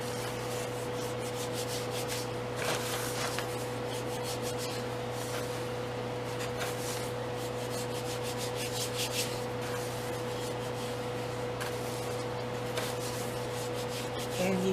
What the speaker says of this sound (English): just rub it into your baking soda like that with your hands at first to get it really mixed in